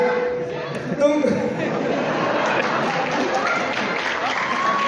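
Applause from the audience at an Urdu poetry recital (mushaira), a steady wash of clapping that swells after the first second and continues under someone speaking over it.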